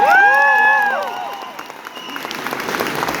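An audience at a live concert applauds, a dense wash of clapping that starts loud and slowly thins, with a few cheers and a voice over it near the start.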